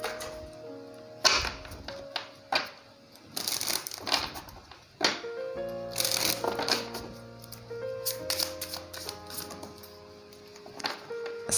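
Tarot cards are shuffled and handled in a series of crisp, papery rustles and snaps that come in uneven bursts over soft background music.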